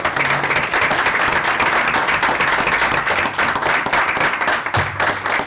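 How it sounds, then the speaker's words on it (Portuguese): Audience at an alumni career award ceremony applauding, a dense, sustained burst of many hands clapping that holds steady and close for the whole stretch, with no talk over it. "pedindo uma salva de palmas para ambos"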